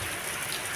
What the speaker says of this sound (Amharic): እና የዛሬው ዝናብ ይሄን ይመስል ነበረ።